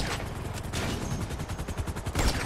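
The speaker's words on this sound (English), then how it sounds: "I'm trying to shoot the pilot out of that one" Gunfire in Grand Theft Auto 5 during online play: dense, rapid automatic bursts of shots in a continuous rattling stream, loud and unbroken, without talking.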